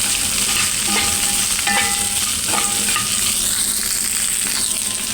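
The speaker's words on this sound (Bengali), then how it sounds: "এখন দেব আমি পেঁয়াজ, রসুন, কাঁচামরিচ। এটাকে আমি ভালোভাবে ভেজে নেব।" Onion, garlic and green chili fry loudly in hot oil, a continuous close sizzle with a few scraping stirs and light metallic taps near the start.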